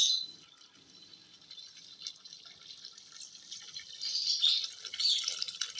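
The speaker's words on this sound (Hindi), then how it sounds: "ये 5 किलो चीनी है। इसके अंदर अद्वियात वाला पानी मैं डाल रहा हूँ।" Herbal water being poured into five kilos of sugar, a soft steady liquid trickle with dripping and splashing that grows a little louder near the end, with no talk.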